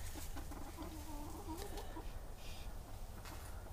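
A broody hen clucks nearby in a short run of low, murmuring clucks at moderate loudness, with faint farmyard background and no speech.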